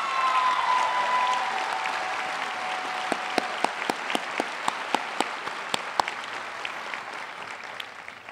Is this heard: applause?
yes